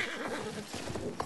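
A horse ridden in the Battlefield 1 World War I shooter gives a loud, clear whinny, a rising and falling neigh over quiet game ambience and a faint clip-clop of hooves.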